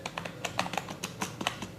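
Rapid clicking taps on a Zebronics gaming keyboard with soft keys, a steady run of light keystrokes close by, alone with no talk.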